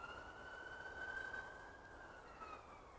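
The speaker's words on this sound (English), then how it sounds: "these kind of frequencies that's going on now, from this siren" A siren wails in the distance as a faint steady tone that slowly rises and falls, heard over a broad rumbling background hum.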